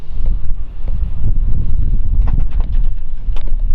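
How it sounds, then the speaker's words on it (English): Gusty outdoor wind buffets the microphone as a steady low rumble beside a 1940 Ford Coupe all-steel resto-rod with a 350 engine, with a few faint clicks and handling sounds near the end. "I know it's a little windy"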